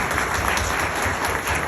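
Applause from an audience at a housing society gathering in Islamabad, a steady, close burst of clapping that fills the short moment without speech.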